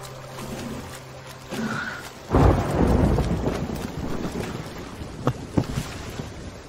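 A thunderstorm at sea in a video game: a low rumble of thunder breaks out partway through and rolls on loudly beside steady rain and wind, with a few sharp cracks near the end.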